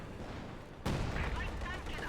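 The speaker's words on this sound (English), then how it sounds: "field gun firing away" A field gun fires in a Company of Heroes 2 match, one sharp, loud boom partway through followed by a dense rumble of battle noise, with voices under the din.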